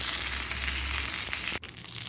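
Asafoetida and curry leaves hit hot oil for an Andhra brinjal curd chutney, giving a loud, close crackling sizzle that cuts off sharply near the end, leaving a quieter hiss.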